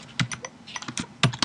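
Computer keyboard keys tap in an irregular flurry while nodes are added in mind map software, crisp close clicks with no talk.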